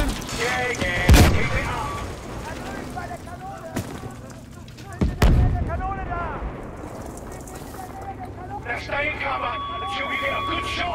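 Deep booming cannon blasts ring out a few times amid Battlefield V game sound effects, with people talking and shouting excitedly throughout.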